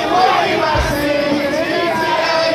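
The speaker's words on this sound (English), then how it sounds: "The crowd at the venue of the event speak volume about the purpose of this gathering." A large crowd gathered at the launch of a Tinubu political support group in Kosofe, a steady dense murmur of many voices at close range with no pauses, filling the whole stretch.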